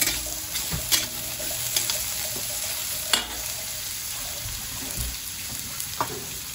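Onions and pork bones frying in a pan for a Filipino tinola-style pork and chicken dish, a steady close sizzle with scattered clatter of stirring, no talk.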